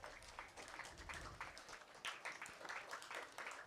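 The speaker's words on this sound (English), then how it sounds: "let's give them a round of applause as well" Applause from an audience for a secondary school STEM challenge team, a fairly quiet, distant spread of hand clapping that stays steady throughout and fades slightly near the end.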